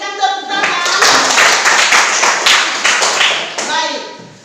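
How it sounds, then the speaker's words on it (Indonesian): A classroom of students claps together in a brisk, loud burst of applause lasting a few seconds, close by, with faint talk underneath. "Berikan tepuk tangan."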